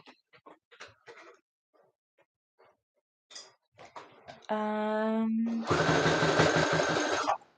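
Sewing machine stitching with an increased stitch width, starting after a few short clicks and handling sounds, then running steadily as a loud, continuous whir and buzz for about three seconds.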